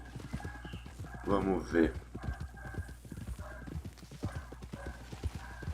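Horse hooves clip-clop in a steady rhythm while riding in Red Dead Redemption 2, with a brief horse whinny partway through and someone speaking briefly over the hoofbeats.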